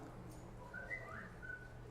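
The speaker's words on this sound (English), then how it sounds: "What is that whistling?" A faint, thin whistling drifts through a quiet room during a spoken talk, with a few brief high whistle tones and one short sliding note over low background hum.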